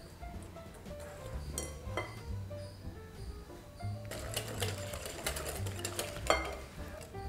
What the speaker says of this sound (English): now we'll whisk this hot butter mixture into this honey mixture